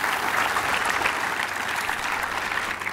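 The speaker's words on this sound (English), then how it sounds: "So round of applause for them." Applause from an audience at a business school groundbreaking event, a full, steady patter of many hands clapping throughout, moderately loud and uninterrupted by speech.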